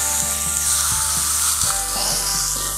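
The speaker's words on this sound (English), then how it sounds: "So now we show you how to grill this steak." A steak sizzling on an electric pressure plate griddle, a loud steady hiss close up, with repeated soft clicks and knocks of the plate or tools cutting through it.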